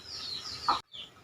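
A hen brought as a gift clucks in a short, close burst over a steady high background hiss, then falls briefly silent before the hiss returns.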